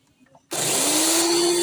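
An electric beater whirs on egg yolks and whites, switching on abruptly after a brief quiet moment and holding a steady high-pitched motor hum close by.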